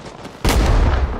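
A grenade explodes in a tunnel during a Rising Storm 2 Vietnam-era firefight: a sudden loud, close blast with a heavy low rumble that hangs on for the rest of the moment after a short quieter lead-in.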